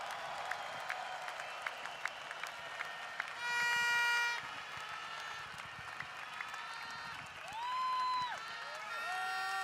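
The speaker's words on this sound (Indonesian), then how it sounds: "mari kita tepuk tangan" Scattered audience clapping sounds faintly from a crowd at an event, mixed with bright tonal chimes and sweeping electronic effects, with no one speaking over it.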